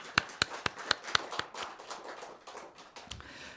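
A church congregation at a Sunday morning Christmas-season worship service claps: a handful of sharp, evenly spaced claps open, then softer scattered clapping trails off, quiet and somewhat distant.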